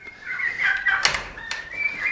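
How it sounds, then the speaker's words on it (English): Baby turkeys on a farm give high, wavering peeping calls, several chirpy trills overlapping close by, with a couple of brief sharp rustling bursts between them. "So for the baby turkeys"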